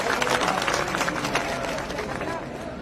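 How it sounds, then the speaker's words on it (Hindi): Crowd applause and clapping at an outdoor political rally in Porsa, Morena district, greeting Chief Minister Shivraj Singh Chouhan, dense and steady with crowd noise throughout, tapering slightly toward the end. "जोरदार तालियां बजाकर मुख्यमंत्री जी का हम सब स्वागत करें"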